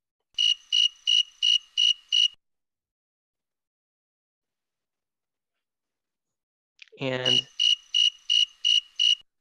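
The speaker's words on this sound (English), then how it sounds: "that's a really regular chirping that you'll hear from these tree crickets." Tree crickets chirp at night in regular, evenly spaced bursts of high trilling pulses, six in a row, then a pause, then another steady run; a single brief spoken word sits just before the second run.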